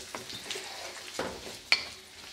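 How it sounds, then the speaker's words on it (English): Thinly sliced cabbage sizzles in a hot wok while being stirred, with quick scraping strokes and one sharp clink of the utensil against the metal, close and clear with no talking. "Give it a stir."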